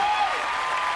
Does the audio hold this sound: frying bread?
no